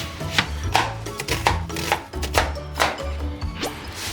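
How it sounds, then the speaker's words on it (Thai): A knife chops onions on a cutting board at home, sounding as repeated close, sharp cuts in an uneven rhythm while a low hum runs underneath. "แล้วหั่นหอม"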